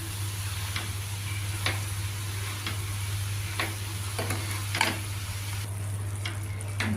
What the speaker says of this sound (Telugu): గంగవల్లి ఆకు కూడా మగ్గుతోంది.